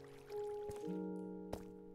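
Water dripping in a Minecraft cave, a couple of sharp isolated drips over sustained tonal in-game ambience, with no talking.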